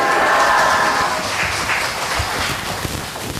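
A church congregation applauds as the preacher steps forward during a Korean afternoon worship service, a dense wash of clapping that stays steady and slowly softens over a few seconds.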